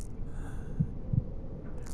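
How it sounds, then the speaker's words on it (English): A heartbeat effect in the Amnesia horror video game, two low muffled thumps over a dark droning hum, short and close with no speech. "Why is my heart beating?"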